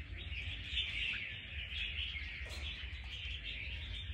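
Red-whiskered bulbuls trapped from Lạng Sơn chirp and twitter in a dense, continuous high-pitched chatter, with a low background rumble and no talking.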